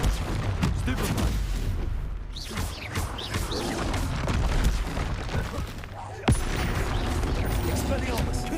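Spellcasting combat in Hogwarts Legacy as the Stupefy spell is cast, with dense bursts of magical blasts, booms and crashes layered over a constant game soundscape and music.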